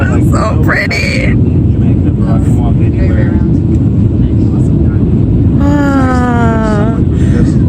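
Loud steady airplane cabin rumble just after touchdown in Jamaica, a dense low roar filling the whole stretch, with people talking over it.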